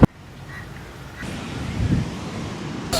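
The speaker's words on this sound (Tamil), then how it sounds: "நல்ல காற்று, நல்ல சவுண்டு" Wind gusts and surf roll at Candolim Beach in Goa, a steady loud rush with swelling waves and microphone buffeting, plus a sharp knock at the start and another near the end.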